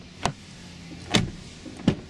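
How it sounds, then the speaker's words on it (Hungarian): A Citroen DS4's door and handle produce three distinct sharp clunks and clicks, spaced roughly a second apart, close by and clear against a quiet background. "ennél szebb ajtócsukódási hangot, kilincsmozgási hangot talán még nem is láttunk"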